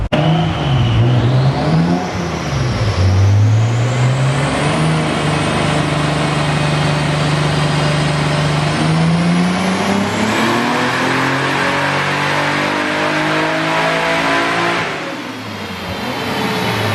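A Nissan Skyline R33's engine roars loudly and climbs steadily in pitch through a long sustained dyno pull, with a brief dip early on, then drops off near the end.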